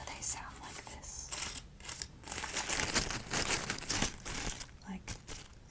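Dry autumn leaves crumpled together close up, a soft continuous crinkling and crunching with irregular bursts, quiet and intimate.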